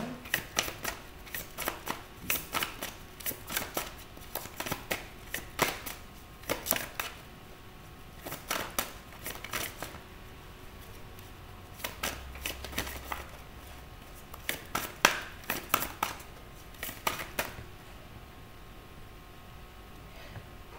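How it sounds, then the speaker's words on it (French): A deck of unicorn oracle cards is shuffled close by in quick riffling bursts, repeated in clusters with short pauses between them, with no talking. "on va prendre une carte de l'oracle des licornes"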